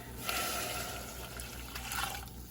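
Two cups of water pour steadily into a cooking pot for a slow cooker meal, a continuous close splashing gush lasting a couple of seconds.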